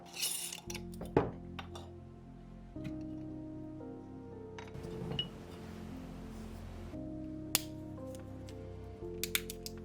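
Ingredients for a love potion are dropped into a pot: a few scattered clinks and light glassy knocks at close range, set against a steady low tonal hum in a quiet room.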